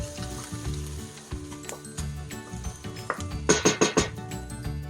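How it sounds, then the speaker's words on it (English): Tomato paste sizzles and browns on the bottom of a pot while cooking beef picadillo, a steady close frying hiss broken by clinks of a utensil against the pot and a few louder scraping stirs near the end. "You can see the tomato paste is starting to brown on the bottom of the dish, on the pot"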